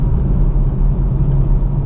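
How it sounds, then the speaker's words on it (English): Steady low road and tyre rumble inside a tuned car on Nitto NT555RII or Toyo R888r tyres, a constant droning hum while driving, loud and close with no voices. "There is just regular road noise."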